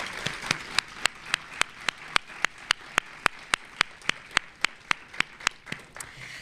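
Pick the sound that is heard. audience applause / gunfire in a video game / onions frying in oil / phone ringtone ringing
audience applause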